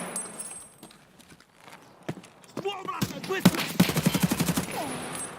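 Gunfire in the video game Escape from Tarkov arrives as a fast automatic burst of sharp, rhythmic shots near the end, following quieter movement sounds, with people talking over it.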